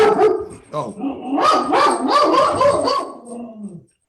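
A man imitates a dog with his voice, giving a rapid series of loud, close barks and yips followed by a whimpering trail-off.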